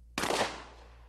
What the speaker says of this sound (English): Here's what happens when you fire a rifled slug at 50 yards.